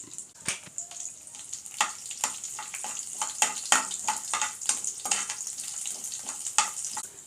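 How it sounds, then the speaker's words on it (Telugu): Cumin and mustard seeds crackle and pop sharply in hot oil. The bursts come quick and irregular over a soft sizzle, close by. "జీలకర్ర ఆవాలు చిటపటలాడుచుండగా వెల్లుల్లి ఎండు మిరపకాయల్ని వేసుకుందాం"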